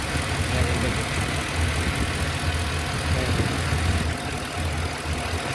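A Ford F150 engine runs steadily after a timing cover repair, giving a constant broadband idle hum with a low rumble. A voice talks over it.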